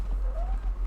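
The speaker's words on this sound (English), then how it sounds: "park my horse over here." Horse hooves clip-clop in the Conan Exiles video game, a few quick, soft rhythmic hoofbeats over a low rumble, brief and fairly faint.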